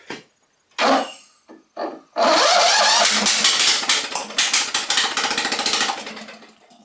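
A Toro TimeCutter zero-turn mower engine with no exhaust pipe cranks in a few short bursts, then catches and runs loud and raw with a rapid, sputtering roar before slowing near the end.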